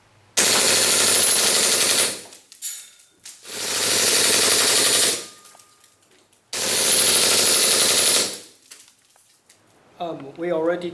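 A WE G18C airsoft pistol fitted with a CNC steel slide fires BBs in three loud full-auto bursts of about two seconds each, separated by short pauses with faint handling noises. A voice speaks briefly near the end.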